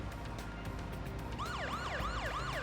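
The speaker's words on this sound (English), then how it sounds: "turning on the sirens" Police car siren in the video game Parasite Eve, a wailing up-and-down tone that kicks in partway through over a steady game music and engine bed, loud and close.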